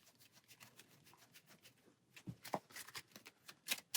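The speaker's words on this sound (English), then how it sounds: "And shuffle our deck back up." A deck of cards shuffled by hand for a Marvel Champions card game, a soft, quiet run of rapid riffling flicks that grows louder in its second half, close up with no talk.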